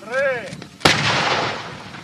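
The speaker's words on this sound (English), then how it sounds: "The advancement of the mechanized company is backed up by snipers and artillery fire." A single heavy artillery blast booms close and loud, with a long rumbling tail, at a Sea Breeze 2019 military live-fire exercise in the Odesa region. A short rising whistle sounds just before it.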